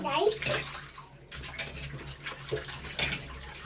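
Sliced potatoes are squeezed and rubbed by hand in a bowl of water, giving close sloshing and splashing while a voice speaks over it.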